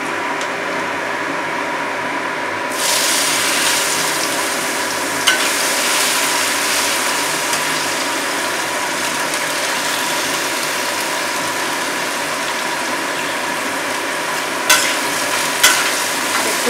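Potatoes with chopped ginger and garlic fry and get stirred in a pan for chira pulao, a steady broadband sizzle running throughout with a few scraping clicks near the end and no talking.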